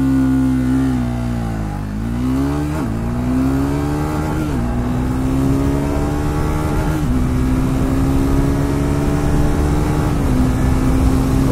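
KTM Duke 390 and Triumph Speed 400 motorcycles in a drag race, engines loud and close, revving up steadily through several gear shifts with brief dips between them.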